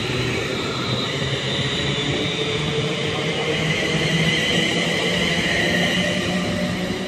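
A Class 350 electric multiple unit at Wigan North Western station on the West Coast Main Line gives a continuous loud rumbling roar with rail noise and a high whine. It is steady and close, with no audible voices.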